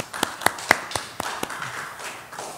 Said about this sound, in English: I think, we could clap.